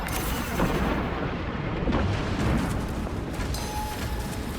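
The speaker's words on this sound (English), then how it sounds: "Track grenade deployed." Track grenade blast in a sci-fi shooter game, a dense rumbling explosion and sustained roar of gunfire and battle noise filling the whole stretch loudly.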